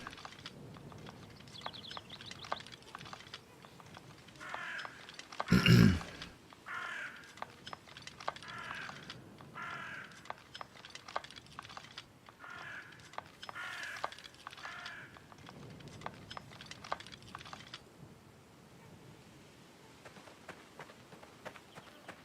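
Birds in the medieval video game Life is Feudal call through a faint outdoor ambience, with crow-like caws and scattered chirps over about twenty seconds, plus one brief loud thump near the start.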